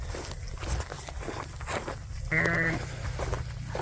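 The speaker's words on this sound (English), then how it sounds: "It's amazing how much these sheep can eat." Sheep on a cattle farm feeding, with soft rustling and shuffling hooves close by and one clear bleat in the middle.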